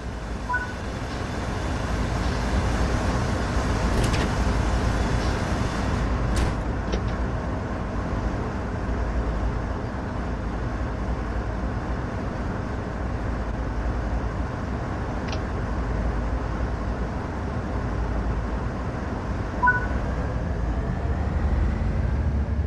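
A GE ES-44C4 diesel locomotive from Train Sim World 3 on Cajon Pass runs in a steady low rumble, a continuous droning engine with broadband hiss and a few brief higher tones, alone without talk.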